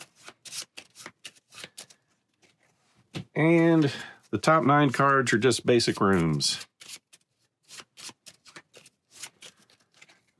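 A deck of cards for the tabletop dungeon-crawling board game Tiny Epic Dungeons is shuffled in a steady run of crisp, riffling taps and clicks, close by, broken by a short stretch of someone speaking.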